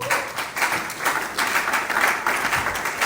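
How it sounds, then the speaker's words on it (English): Audience clapping at a real estate sales bootcamp, a steady patter of many hands that carries on for the full few seconds at moderate volume. "I thought we were going to clap."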